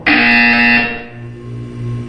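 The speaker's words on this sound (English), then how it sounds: "When you hear the buzzer, look down at the floor." Buzzer from the video game Portal 2 sounds once: a loud, harsh electronic tone held for about a second, then cut off, leaving a low fading hum.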